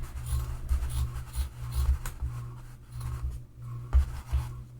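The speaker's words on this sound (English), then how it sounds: "So I'm definitely going to trim them down on that side." Scissors trimming fabric seam allowances on a bag lining, a series of close, soft rhythmic snips and rubbing crunches repeating about once per half second.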